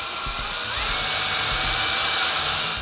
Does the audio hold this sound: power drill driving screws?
yes